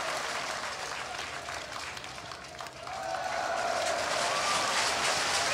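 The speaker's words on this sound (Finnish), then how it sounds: "Yleisö on aivan haltioissa" A football stadium crowd roars in a broad, continuous wash of cheering that swells louder halfway through, with a commentator's voice faintly underneath.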